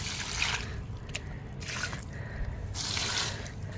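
Water is poured from a bucket onto rooftop plants in several short, close splashing bursts with brief pauses between them.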